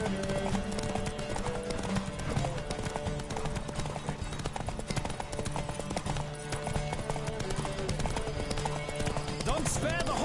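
A horse galloping in the video game The Witcher 3: Wild Hunt, a fast, continuous clip-clop of hooves over dense game sound and music, steady and loud throughout.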